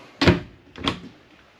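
A coat closet door in a 2024 Forest River Flagstaff Micro Lite travel trailer is handled twice in quick succession, a soft knock-like thud followed by a lighter slide or clack, close by in a quiet room.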